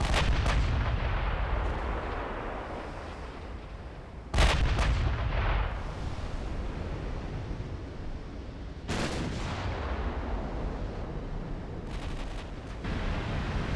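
Heavy naval guns of a battleship fire in the naval warfare game Ultimate Admiral Dreadnoughts as a continuous roar of distant booming artillery, with sharp, loud salvos striking at intervals over the rumble. No one speaks.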